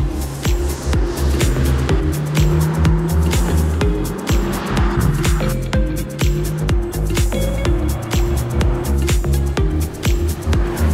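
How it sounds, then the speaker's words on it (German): A Mercedes C63 S E Performance lapping the Ascari race track, its engine loud and close throughout, revving hard with rapid gear-change bursts and steady road roar, no talking. "Mercedes C63 SI Performance auf der Rennstrecke fahren."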